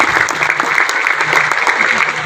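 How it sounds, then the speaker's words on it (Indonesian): A crowd at a farmers' gathering in an Indonesian village claps loudly and steadily, a dense, close round of applause lasting a couple of seconds. "tepuk tangan dulu kalau begitu."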